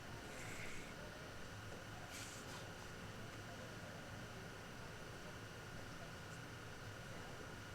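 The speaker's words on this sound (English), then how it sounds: "besides the air conditioning unit running behind us" Air conditioning unit running steadily at a college bowling championship, a constant broadband hiss and hum filling the room at low level, with faint crowd murmur underneath.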